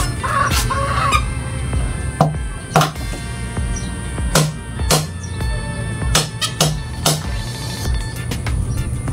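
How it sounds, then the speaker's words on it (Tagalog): Chickens cluck nearby, mixed with a series of sharp, irregular knocking or chopping sounds while ginger and onions are prepared. "Ito mga manok."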